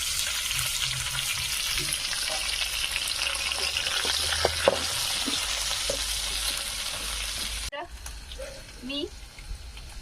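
Spring onion hits a pan of garlic already frying until reddish, raising a loud, steady sizzle with some stirring scrapes; the hiss drops sharply near the end to a quieter crackle with a few clinks.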